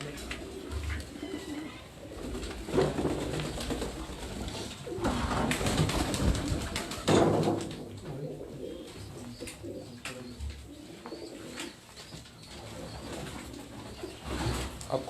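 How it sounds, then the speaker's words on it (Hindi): Pigeons on a rooftop loft in Larkana, Sindh, coo in soft repeated throaty phrases, fairly close, with some background murmur and faint chirps around them. "ये पुराने कबूतर हैं,"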